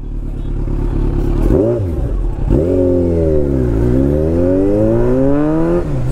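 A super bike's engine idles and revs in rising and falling sweeps on a first ride, loud and close, with a steady rumble between throttle blips.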